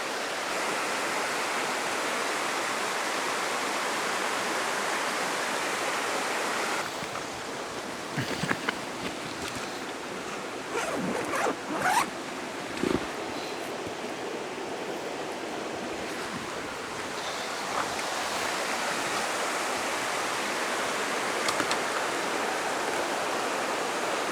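Continuous rushing of water flowing in a stream around rocks, a steady broadband babble close to the microphone, with a slight shift in tone partway through and occasional small splashes and knocks.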